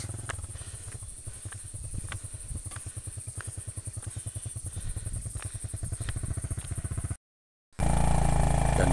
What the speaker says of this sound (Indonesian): Dan di sini saya mulai naik motor lagi.